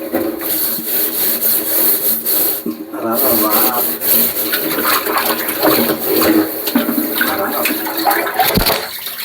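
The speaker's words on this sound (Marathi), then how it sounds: "सगळं बॅरल चकचकीत घासायला लागतोय." A neglected barrel is scrubbed clean by hand with a rag, giving rhythmic, close rubbing and scraping strokes with watery sloshes, while someone talks faintly at times.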